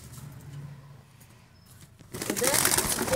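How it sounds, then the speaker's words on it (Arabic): Cockatiels call from close by, a few soft chirps at first, then after a short lull a louder burst of overlapping squawks and chatter toward the end. "دي عصافير كوكتيل وصوتها شايفين ازاي صوتها"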